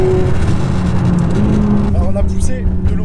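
A McLaren 570S supercar accelerates hard, its engine a loud, close continuous roar rising in pitch, with people talking over it throughout.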